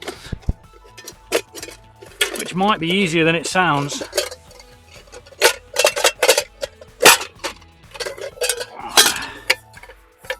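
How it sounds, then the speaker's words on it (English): Sharp metallic knocks and clanks come in irregular bursts as the dented panels of a Trangia 25 cookset are beaten back out, with someone talking briefly between the hits. "First things first, let's beat these panels back out."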